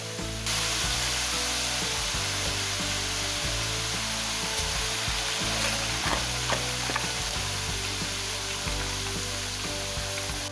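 Potato strips frying in hot oil in a wok for crispy Indonesian kentang mustofa, a steady dense sizzle and crackle filling the whole stretch, with occasional stirring clinks and scrapes, loud and close, no voices.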